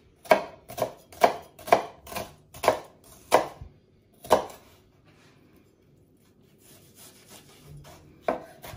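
A knife chops two shallots on a board in a home kitchen, giving about seven sharp, evenly spaced cuts, a pause, one more cut, then near silence and a final chop, close and clear.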